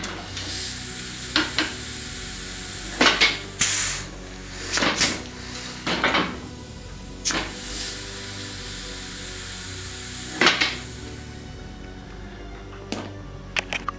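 A pneumatic swamp lunger haunt prop with slowed speed valves fires repeatedly, giving sharp hissing air bursts and clunks at irregular intervals over a low background hum.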